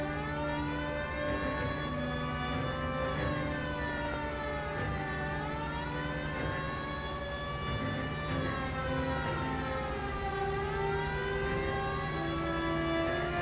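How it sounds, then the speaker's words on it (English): A police car siren from the video game L.A. Noire wails continuously, rising and falling in long sweeps over a steady engine drone, loud and close throughout with no talk. "You think eventually the siren, the blowhorn's gonna blow out?"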